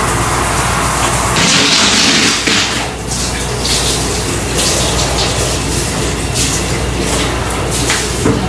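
Water runs steadily from a tap or shower, splashing and gushing loudly while a shower chair is rinsed and washed by a caregiver, with shifting spray intensity throughout and no talking.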